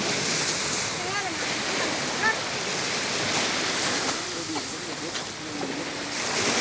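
Sea waves at Punai beach in Belitung: a constant broad wash of surf and wind noise, with voices talking faintly underneath.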